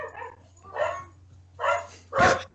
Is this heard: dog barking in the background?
yes